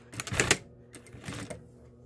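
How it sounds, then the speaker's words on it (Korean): A sewing machine stitches a sweatshirt side slit and ribbed hem in two short, close, rattling bursts separated by a brief pause. "시보리 이제 위치 맞게 잘 당기면서 쭉 박음질 해주세요."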